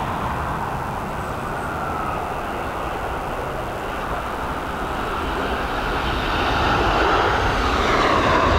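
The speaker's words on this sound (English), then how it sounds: "Here we go, this 737, and now ready to touch down from Paris." A Boeing 737 arriving from Paris touches down at Dublin Airport in high winds. A steady, broad jet roar mixes with wind rush and swells louder toward the end, with no talking.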